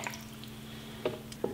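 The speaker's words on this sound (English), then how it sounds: "drop it into the water" A steel brake rotor tied to a hanger is lowered into a rust-removal water bath, giving two quick wet plops near the end over a quiet, low electrical hum.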